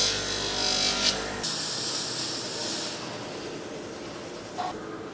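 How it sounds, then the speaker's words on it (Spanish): Welded stainless steel ham holder being polished with a power tool, giving a steady abrasive whir and grinding rub that holds loud for the first second and a half, then continues more evenly, with a brief sharper scrape near the end. "Y ahora ya pasaríamos a pulir."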